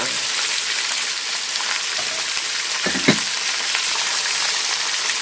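Spices with salt and turmeric sizzle steadily in a hot pan for a chicken sambar, a continuous close crackle with a brief stirring scrape around the middle.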